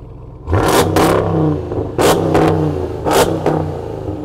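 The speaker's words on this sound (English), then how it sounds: "This truck sounds epic. Go on, let's have a listen. Rev it up." Hennessy Mammoth pickup truck, a high-output build based on the Dodge Ram TRX, revving its engine in three loud, close blips, each rising sharply then falling back to a rumbling idle.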